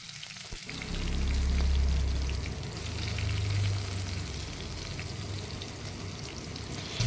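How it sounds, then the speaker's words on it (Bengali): Pointed gourd (potol) fries in a pan with panch phoron. A dense, continuous sizzle crackles up close, swelling and easing throughout, with no voices. "তো পটলটা আমি ভাজা বসিয়ে দিলাম।"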